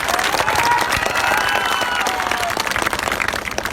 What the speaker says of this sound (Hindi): सभी हमारे खिलाड़ियों के लिए पर जोरदार आप लोग ताली बजाइए